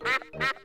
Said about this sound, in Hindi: देखो, वहाँ तालाब में बत्तख है।